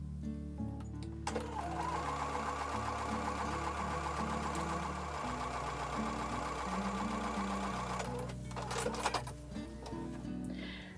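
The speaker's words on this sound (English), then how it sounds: "So I'm going to take that over to the sewing machine and sew with a 1/4 inch seam." A sewing machine stitches a quarter-inch seam joining quilt sashing strips, a steady mechanical whirr with fast even needle pulses running for several seconds before stopping, then a brief clatter.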